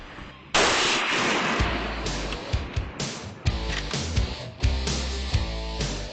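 Gunfire outdoors at an Alaska hunting camp: a sharp, loud blast followed by a series of rougher booming and crackling reports and rumbles spread over several seconds, with no talk over it.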